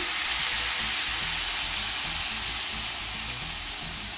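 Salsa hits a hot pan with a loud, continuous sizzle and splatter. The frying hiss is close and strong and holds steady throughout with no voices, easing only slightly toward the end.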